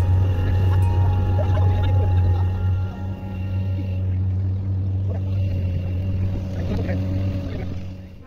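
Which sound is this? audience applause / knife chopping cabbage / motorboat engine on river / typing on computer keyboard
motorboat engine on river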